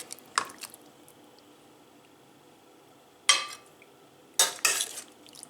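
Shop-bought packet meatballs are stirred in tomato sauce in a pan, giving a few short wet squelching scrapes at separated moments against an otherwise quiet kitchen.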